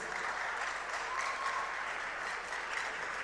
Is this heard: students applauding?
yes